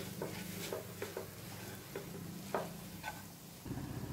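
Green pea kachori filling stirred in a pan over low heat, a spoon scraping and clinking at an irregular pace over a soft, steady sizzle, close and fairly quiet.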